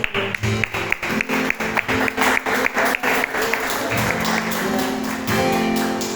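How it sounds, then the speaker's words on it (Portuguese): Rhythmic clapping from a church congregation, a steady beat of sharp claps that gives way to denser applause with music underneath, moderately loud. "E as palmas vão ao Senhor"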